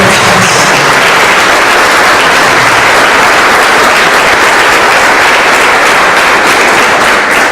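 Loud, sustained applause from an audience at the launch event for a knowledge center, a dense steady roar of clapping lasting the whole stretch with no talking over it.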